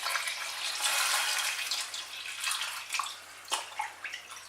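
Water is poured from a small jug onto potatoes in a cooking pan, a soft continuous splashing and trickling that rises and then breaks into a few irregular splashes toward the end, fairly quiet and close.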